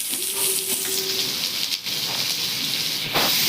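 Chopped onion hits hot oil with whole cardamom, cloves, cinnamon and bay leaf, giving a steady, loud frying hiss with brief clatters and a short tonal hum near the start.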